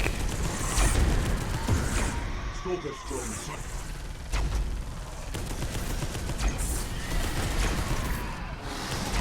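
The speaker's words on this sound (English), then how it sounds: "This plasma cannon even sounds weak." Sci-fi plasma cannon shots from Space Hulk: Deathwing crack out several times over a dense bed of game noise and mechanical clatter.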